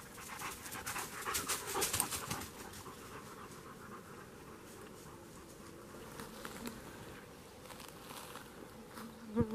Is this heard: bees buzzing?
yes